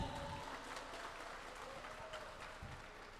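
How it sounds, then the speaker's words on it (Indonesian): A studio audience at a post-election student dialogue in Bandar Lampung claps, a continuous, moderately loud patter of many hands with a few stray louder claps, steady throughout. "Tepuk tangan yang paling meriah"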